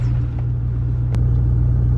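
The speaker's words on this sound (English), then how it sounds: "Now I'm in line with semi-trucks." Semi-trucks idling in a line, a steady low diesel rumble with a constant hum and a brief sharp click partway through, close and unbroken, no talk.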